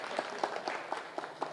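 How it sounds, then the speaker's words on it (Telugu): Faint, scattered hand claps from a small gathering at a public talk, a few sparse claps spaced in a loose rhythm over a quiet background. "మీరందరూ గట్టిగా చప్పట్లు కొడదాం నా సమయాన్ని వృధా చేసినందుకు"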